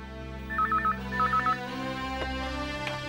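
An office telephone rings in two quick warbling bursts of electronic trill, clear and close, over a steady low background hum that continues after the ringing stops.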